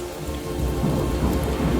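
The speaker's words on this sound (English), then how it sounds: "a low, distant rumble of thunder echoed through the valley" Steady rain pours down during a storm with a low rumble of distant thunder rolling underneath, dense and continuous without voices.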